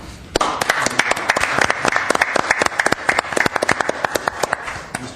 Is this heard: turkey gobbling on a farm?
no